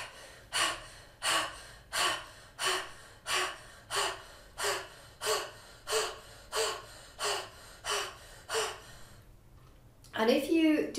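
Rapid, deep breathing from a panic-attack breathing exercise: about twelve strong, evenly spaced breaths, close and loud, each roughly a second apart, with a brief pause near the end and a short burst of voice.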